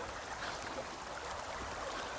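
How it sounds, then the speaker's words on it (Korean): A river flows in a steady, soft hiss, a continuous flowing wash of water with no voices. "강물 흐르는 소리 너무 좋다."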